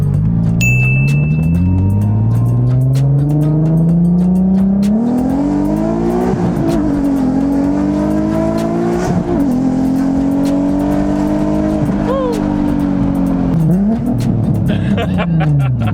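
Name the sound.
Nissan 370Z exhaust revving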